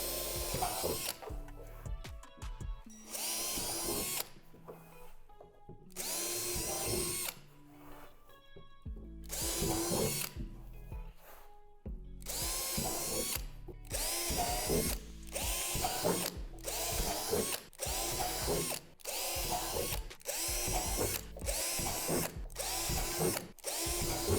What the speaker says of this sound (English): Drill out all 20 indentations with a 1/4 inch drill bit.